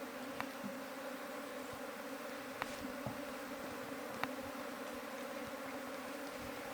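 Honeybees with a gentle new queen buzz steadily inside a hive box, a dense continuous hum with faint clicks and taps, heard up close without talk.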